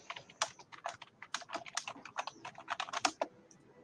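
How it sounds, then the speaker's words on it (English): Someone types on a computer keyboard, a quick irregular patter of close, crisp key clicks in the quiet. "Someone's typing."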